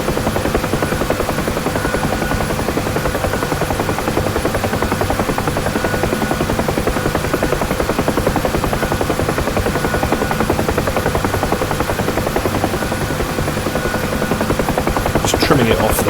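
A UH-1 Huey helicopter flies in the DCS flight simulator, its loud, even rotor thump and turbine whine running without pause throughout.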